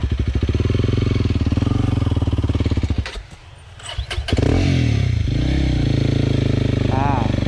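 A Honda CRF300L motorcycle pulling away uphill in first gear, its loud close engine chugging, briefly dropping off, then revving back up and holding a steady drone, with a voice speaking over it.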